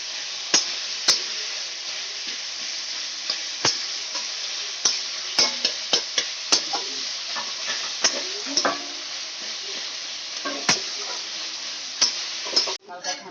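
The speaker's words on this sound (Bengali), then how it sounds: "সুন্দর লাল করে ভেজে নিতে হবে পেঁয়াজগুলো আমাকে।" Onions with a little salt fry in a pan, a steady soft sizzle broken by repeated scraping strokes of a spoon as they are stirred, close and fairly quiet.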